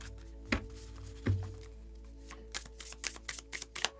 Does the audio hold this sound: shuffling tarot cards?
yes